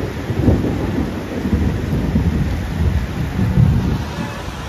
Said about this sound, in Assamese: কিমান জোৰকে বৰষুণ দি আছে